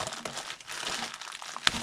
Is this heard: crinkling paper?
yes